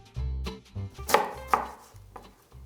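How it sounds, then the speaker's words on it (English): Knife chopping an onion on a cutting board for Hungarian stuffed cabbage rolls, with a series of close, uneven thuds and a couple of sharper cuts. "So first we will need to chop everything that requires chopping, starting with the onion"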